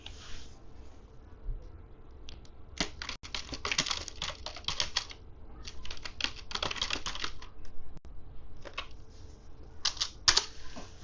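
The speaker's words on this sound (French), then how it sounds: "je tape une question simple" Someone types a question on a computer keyboard, a steady run of close, crisp key clicks in quick bursts with short pauses, no talk over it.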